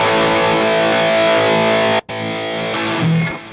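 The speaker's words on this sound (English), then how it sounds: "you'd have to have the distortion pedal, you can have it before the amp" Electric guitar played through a distortion pedal set before the amp on a Line 6 HX Stomp, a thick sustained distorted chord ringing loud, cut off abruptly, then a softer second chord that fades out.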